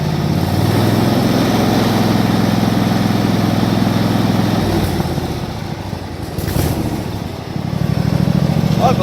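A riding lawn mower engine with a charging-system wiring fault runs steadily and loudly. Its drone dips and roughens midway, then settles back into an even run.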